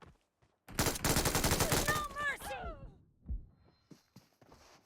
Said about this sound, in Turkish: Arkadan vurdu.